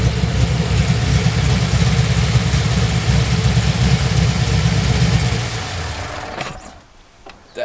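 A muscle car engine idles with a deep, loud, thumping rumble that holds steady for about six seconds, then drops away near the end.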